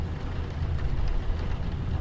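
Steady rain hisses and drums over a low car rumble during a night drive, a continuous wash of noise at moderate loudness with no voices.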